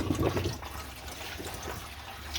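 Fluid drains and trickles steadily from a 7.3L Power Stroke diesel oil cooler during removal, a continuous close splashing, liquid sound that stays loudest at the start.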